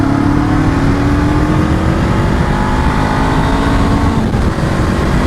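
A 2024 Honda SCL500 scrambler motorcycle with chain drive and six-speed gearbox accelerates hard, its loud close engine note rising steadily in pitch through a gear change, no voices.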